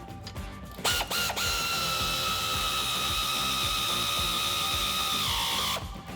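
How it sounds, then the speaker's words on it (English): Air ratchet whirring steadily as it runs down control arm bolts on a Jeep Wrangler JK, with a few quick ratcheting bursts at the start, then a loud sustained pneumatic whine that cuts off near the end, close up. "I can start that with the air ratchet"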